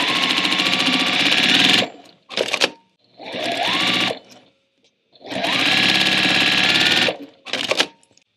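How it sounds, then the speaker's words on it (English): A sewing machine stitching quilt block pieces runs in loud, close, rapid mechanical bursts. Its whirring stops and restarts several times, with short pauses and clicks between runs. "So I'm going to get to work sewing this."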